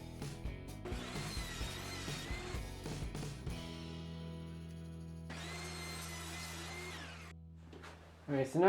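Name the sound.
table saw cutting two 18-inch wood strips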